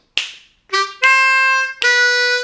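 C harmonica playing the closing phrase of a song, a short breathy note followed by three sustained reedy chords, solo and close.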